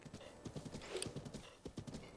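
A horse's hooves clip-clop in a steady trot in Zelda Breath of the Wild, the rhythmic clopping quiet and regular, with a brief neigh partway through.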